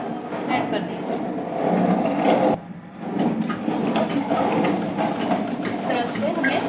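A sewing machine runs while a blouse is stitched, making a continuous mechanical whir with a brief pause partway through, then running again at a steady close level.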